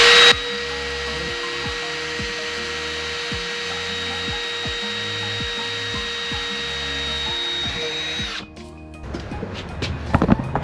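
A power drill runs continuously, boring into wood with a steady whine and rhythmic chattering, then stops abruptly near the end, leaving quieter handling noises.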